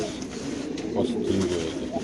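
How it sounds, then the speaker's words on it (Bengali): A black racer pigeon cooing close up, rolling low burbles that swell slightly midway, with faint background chatter from people nearby. "এখানে আছে একটা ব্ল্যাক রেসার কবুতর।"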